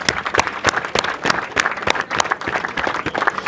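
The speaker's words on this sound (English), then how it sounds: "kindly join me giving a round of applause to our trainers" Graduation audience giving a round of applause to their trainers, with sharp, uneven claps from a modest crowd ringing out fairly close.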